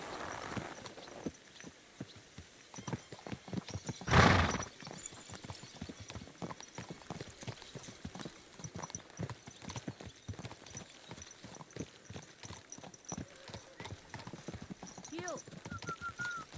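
A group of horses ridden out at a steady pace in a medieval role-playing game, hooves clip-clopping in a continuous quick rhythm, with a brief loud thump partway through and faint game ambience underneath.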